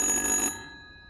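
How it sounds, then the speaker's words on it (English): A telephone rings inside the horror video game Little Hope, a short, loud electronic bell burst that cuts off abruptly and leaves a fading ringing tail. "Answer the goddamn phone!"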